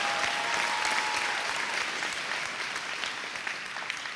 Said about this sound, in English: let's give all of our sponsors a massive round of applause